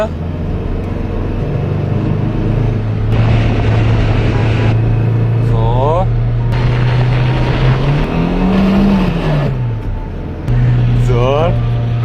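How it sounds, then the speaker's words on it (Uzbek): A Chevrolet Gentra car engine runs with a slight rattle, rising and falling in revs with a steady low hum, while people talk over it. "Motor sal shaqillayapti, lekin o'chmadi hali."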